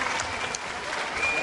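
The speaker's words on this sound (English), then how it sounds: "And there the crowd love that." Wrestling crowd cheering and applauding loudly and steadily as the red corner's favourite scores an equalising fall in round 7 of a bout, a dense wash of clapping and shouts throughout.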